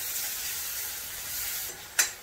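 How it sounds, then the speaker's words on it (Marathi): Garlic, coriander and green chili sautéing in oil over low heat for a Maharashtrian zirka, a soft even sizzle up close, with one sharp brief spatter or clink near the end. "तेल तापल्यानंतर गॅसच्यात कमी करायची, छानसं परतून घ्यायचं।"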